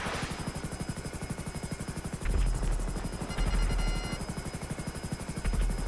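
An FH-1 Hunter attack helicopter in GTA V Online, its rotor beating in a fast, steady chop with engine whine, swelling louder and deeper in bursts as it maneuvers.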